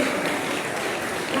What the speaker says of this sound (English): Okay, please don't clap. Please don't clap.